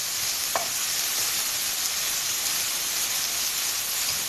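Onions sautéing in a preheated pan with a little oil, giving a steady, fairly loud sizzle and hiss that runs unbroken throughout with no talking.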